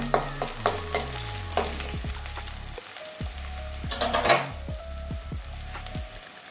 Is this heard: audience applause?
no